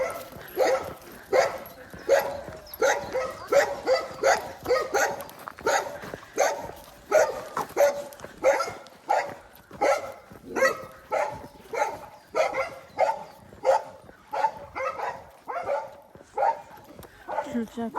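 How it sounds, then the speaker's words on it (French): Several dogs bark repeatedly at close range as someone walks past them with a young foal, the barks in a continuous, overlapping run that lasts throughout. "on passe devant les chiens"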